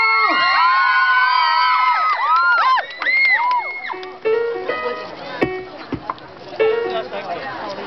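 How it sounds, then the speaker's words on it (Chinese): A crowd at an outdoor youth music concert in Zhonghe cheers during a sound check, with shrill whoops, whistles and children's shouts rising loudly over amplified voices before the noise breaks into scattered bursts. "试音的时候一样可以来点欢呼声"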